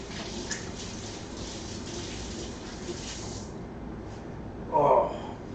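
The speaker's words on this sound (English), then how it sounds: "Let me get my hands rinsed off really fast." Hands rinsed under a running tap in a home kitchen while making Salisbury steak patties, a steady, fairly faint stream of water with a brief louder splash near the end.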